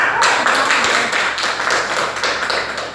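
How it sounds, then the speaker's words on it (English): A debate audience claps after the session in a loud, close burst of scattered claps that stays fairly even, then eases slightly as it ends. "Everybody, let's give ourselves a round of applause."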